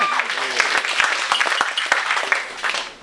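Comedy club audience breaking into applause, a dense burst of clapping mixed with voices that fades toward the end.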